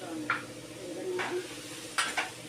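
Grated bottle gourd fries in a pan of ghee, a soft low sizzle broken by a few sharp scrapes and clinks of a spoon stirring against the pan.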